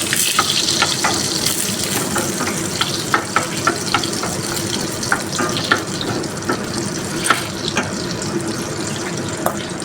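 A cream sauce for baked macaroni cooks on low heat while a spoon stirs it steadily, giving a busy bubbling, watery hiss and evenly repeated taps of the utensil on the pan.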